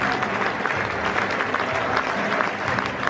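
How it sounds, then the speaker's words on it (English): Sustained applause at the White Hart Lane football stadium, home of Tottenham Hotspur, a dense wash of many hands clapping steadily and loudly throughout with a faint crowd murmur beneath. "A round of applause for White Hart Lane"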